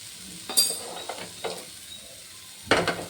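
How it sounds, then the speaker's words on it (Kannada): Peanuts and capsicum fry together in a pan for capsicum chutney, a steady soft sizzle broken by several scraping stirs of a spatula, with one louder scrape near the end. "ಅದ್ರ ಜೊತೆಲೇ ಇನ್ನೊಂದ್ಸಲ ಫ್ರೈ ಆಗಲಿ"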